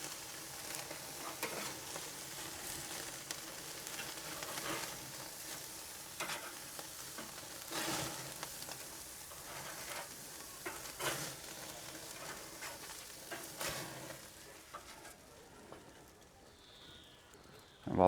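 Bacon cheeseburger patties sizzle on a flame grill, resting off direct heat while the cheese melts: a steady, fairly faint hiss runs throughout with scattered small pops and clicks.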